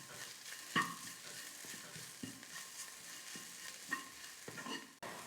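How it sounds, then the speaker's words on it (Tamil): Masala mixture sautéing and being stirred in a pan over a low flame for a snack, with a soft continuous sizzle and occasional scraping stirs and clinks of the spatula, fairly quiet. "இப்போ இது எல்லாத்தையும் சேர்த்து நல்லா வதக்கிக்கலாம்."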